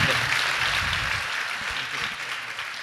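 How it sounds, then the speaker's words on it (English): Applause from an audience at an award presentation at the Santa Cruz Beach Boardwalk, honoring the Giant Dipper coaster's opening-day anniversary; steady, dense clapping fills the whole stretch at moderate level and fades slightly toward the end. "Let's give them another round of applause for everything they've done here."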